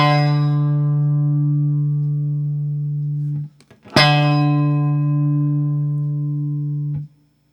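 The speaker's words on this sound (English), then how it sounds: "Hear that rattling?" A Fender American Vintage II 1961 Reissue guitar rings out two long sustained low notes, each lasting about three seconds with a brief gap between them, and the strings carry a faint buzzing rattle.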